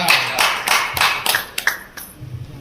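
Audience applause at a Marathi Warkari devotional gathering: a scattering of sharp hand claps spread unevenly through the moment, fairly close, with a faint room murmur beneath.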